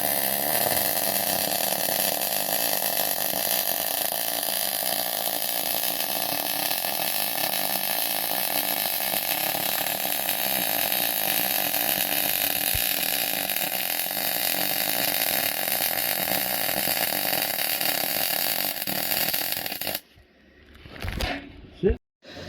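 A noisy welding machine runs loud and steady with a constant harsh roar for about twenty seconds, then cuts off abruptly, leaving near quiet with a few faint rustles.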